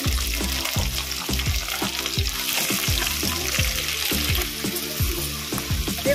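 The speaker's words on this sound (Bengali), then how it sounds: "আমি এর মধ্যে দেবো রসুন কুচি, এটা একটু ভেজে নিলাম।" Chopped garlic and cut beans fry in hot oil in a pan, a steady bright sizzle broken by repeated scraping stirs of a spatula in an irregular rhythm, close and fairly loud with no talking.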